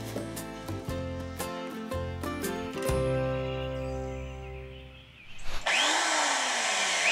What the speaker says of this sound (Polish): Na początek najgłośniejsze narzędzie budowlane – wiertarka.